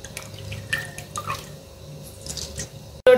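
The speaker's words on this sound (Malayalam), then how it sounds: "ഇത് നമുക്ക് ഈ തോർത്ത് ഇങ്ങനെ പൊക്കി ഇതിൽ നിന്ന് അരിച്ചെടുക്കാം." Mulled wine with spices dripping as it is strained through a cloth towel: scattered close drips and small splashes, fairly soft, ending in a sudden loud knock.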